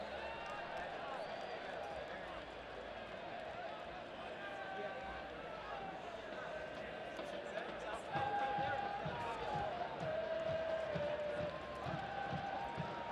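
Stadium crowd at a USL soccer match between Louisville City FC and FC Cincinnati, a broad, distant murmur of many voices with occasional whistles and shouts, running under a commentator talking.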